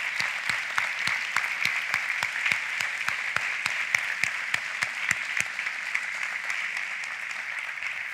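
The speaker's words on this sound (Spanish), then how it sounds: "Dale un fuerte aplauso al Señor." A church congregation claps for the Lord, a dense steady round of applause with sharp rhythmic claps standing out close by, sustained without a break, with no talking over it.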